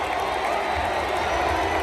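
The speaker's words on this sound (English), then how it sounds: "The crowd was awesome" A football stadium crowd roars and cheers in a dense, steady wash of noise, loud and unbroken for a couple of seconds.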